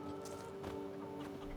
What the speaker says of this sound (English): Oh, I got some chickens.